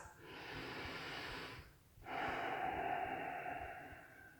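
Deep breathing during a yoga class: a long inhale, brief pause, then a long, steady exhale, close and alone.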